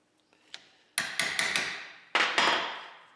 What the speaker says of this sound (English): Kind of got to give them a quick smack. So we're going to take our chisel, start to spread them.